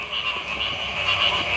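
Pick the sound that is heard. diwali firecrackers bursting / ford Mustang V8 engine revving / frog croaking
frog croaking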